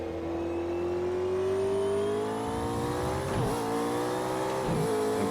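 McLaren P1 hypercar engine in Project CARS 2, a steady high-pitched drone that climbs smoothly as the car accelerates, with brief tire squeal near the end and no voices.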